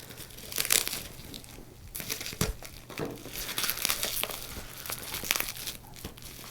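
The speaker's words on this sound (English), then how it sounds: "And now this is how you unwrap things." Crinkly plastic packaging around a bootleg Kamen Rider Den-o figure is pulled and torn open, giving close, loud bursts of crackling and crumpling in irregular handfuls with short pauses between, no voices.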